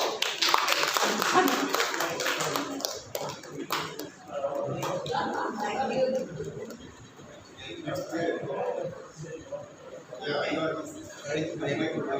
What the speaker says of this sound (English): felicitate us with the applause